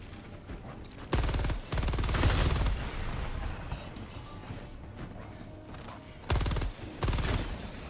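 Video game gunfire from rapid weapons, coming in loud bursts of quick repeated shots that stop and resume over a steady background of battle noise, close and prominent.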